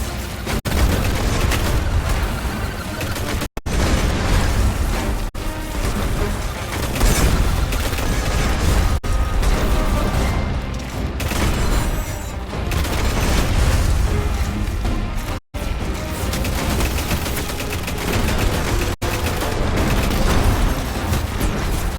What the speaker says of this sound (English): Use a bomb here, and those explosions are not helping.